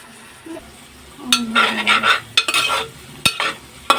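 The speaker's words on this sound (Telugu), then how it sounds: "ఇలా బాగా కలుపుకోవాలి" A spoon scrapes and stirs mutton kurma in a pan, with bursts of clattering and soft sizzling at close range.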